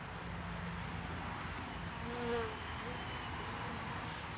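Honey bees buzz around a feeder bucket at a hive, a faint, continuous insect drone with a low hum running steadily throughout and no talking.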